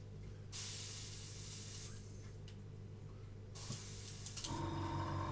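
An airbrush spraying paint for model building gives a steady hissing spray with a few brief pauses and bursts, heard up close over a constant low hum, with no talk.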